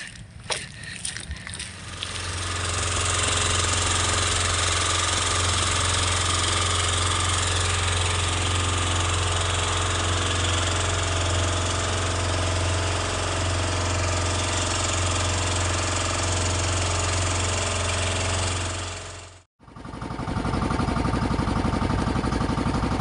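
Small fishing boat engine starting up and running at a tidal flat, a loud, steady, close droning rumble that holds for about seventeen seconds before briefly cutting out and restarting.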